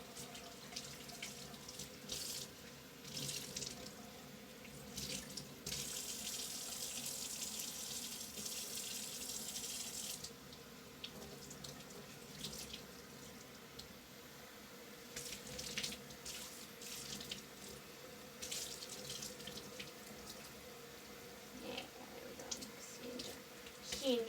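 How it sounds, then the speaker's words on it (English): Tap water runs steadily into a sink while shampoo is rinsed out of a wig, a continuous splashing wash with shifting bursts of spray, close and fairly loud throughout. "Rinse it out nicely. Make sure all the bubbles get out."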